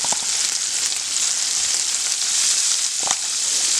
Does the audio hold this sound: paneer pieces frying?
yes